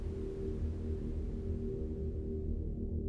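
Blurred hypnotic techno pad washed in reverb and delay, a quiet sustained low drone with smeared harmonics fading gently toward the end, heard alone.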